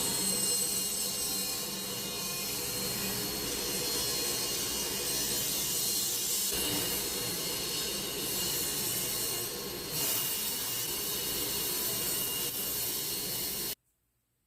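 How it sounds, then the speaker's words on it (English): A table saw rips wood to make a dowel rod, giving a loud, steady whine and roar that holds for about fourteen seconds with slight dips as the cut progresses, then stops abruptly, with no talking. "So I'm going to set this table saw just a little over 3/8."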